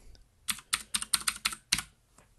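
Typing on a computer keyboard, a short burst of about eight crisp, clear key clicks in a quick uneven rhythm, close up with no voices.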